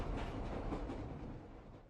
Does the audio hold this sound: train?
yes